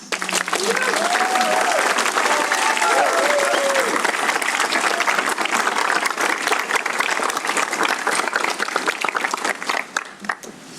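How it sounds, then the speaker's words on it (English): Sustained applause from a crowd at a nursing pinning ceremony, loud and steady clapping throughout before tapering off near the end. "So another round of applause, please."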